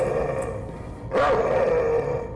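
A dog growls in the horror video game Night People, a single rough burst midway that rises over a dim, droning background.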